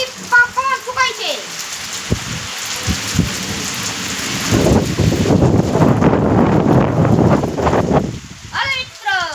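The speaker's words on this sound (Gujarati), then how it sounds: "તમે આ પણ જોઈ શકો છો કેટલા તાણથી પવન ફૂંકાય છે" Heavy rain and strong gusting wind in a coastal storm roar loudly and continuously, with rumbling bursts midway, while someone speaks at the start and end.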